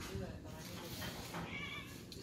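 A cat meows a few times indoors, short faint cries mixed in with people talking nearby.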